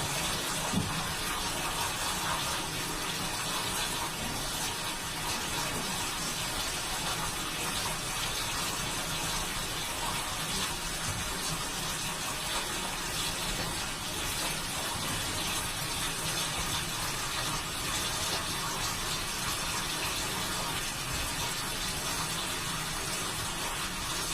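A recorded waterfall plays as a steady, broad rush of falling water, continuous and fairly faint, with no other sounds standing out.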